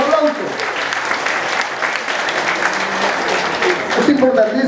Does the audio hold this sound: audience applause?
yes